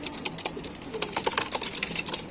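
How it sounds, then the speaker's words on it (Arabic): Pigeons in a loft of nash pigeons kept for sale in Tanta, Egypt, make repeated soft coos and short calls with light rustling, close and steady throughout, with no talk. "حمام اللي بفلوس يا رجاله اقسم بالله"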